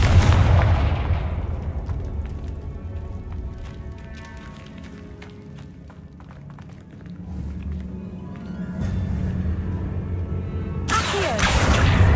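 Confringo spell explosions in the video game Hogwarts Legacy, loud booming blasts with crackling impacts and whooshes, rumbling on and off over several seconds with a fresh burst at the end.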